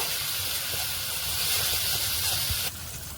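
A spice paste with ground poppy seed and cashew fries and hisses steadily in a pan, close and loud, then the hiss drops off abruptly near the end.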